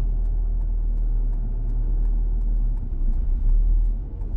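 A manual car's engine idles in a steady low rumble as a son, learning to drive, gets set with the clutch in and first gear selected, swelling slightly louder near the end with no talking.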